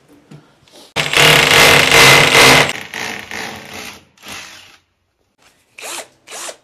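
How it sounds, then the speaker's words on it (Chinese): A cordless electric drill bores a 6 mm hole in tile for a shower installation, running in one loud, steady burst for about two seconds, then shorter bursts and scraping, with brief faint gaps between. "这电钻，我刚开始干安装的时候也就用这电钻。"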